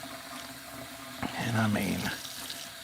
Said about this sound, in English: Rinse all the soap off of that.